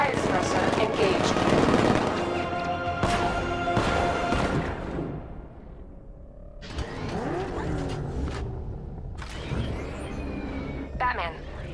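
A tank's riot suppressor gun firing in Batman: Arkham Knight, loud bursts of rapid gunfire and mechanical clatter mixed with game music and effects, then pauses and renewed firing, with voices talking over it.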